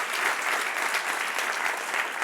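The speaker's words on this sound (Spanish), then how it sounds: "Dale un aplauso al que reina." A church congregation applauding during a sermon, dense continuous clapping that fills the space evenly, with no voice over it.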